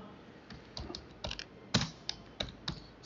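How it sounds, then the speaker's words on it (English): Close, quiet keystrokes on a computer keyboard as a terminal command is entered on Ubuntu, irregular clicks with short gaps between them and no voice. "Now you need to type the command"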